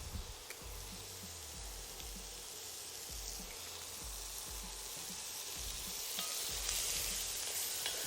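Garlic sizzling in olive oil in a pan over lowered heat, a steady quiet fry with soft stirring scrapes and low thumps throughout.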